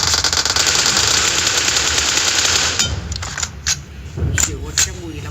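Rapid automatic gunfire from a shooting video game, a dense loud burst for a few seconds, then scattered quieter shots while a voice talks.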